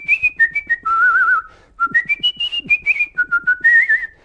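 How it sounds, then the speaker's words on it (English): A person whistles a lilting tune alone, clear and close, with short notes and a few longer held tones. "That's the common whistle."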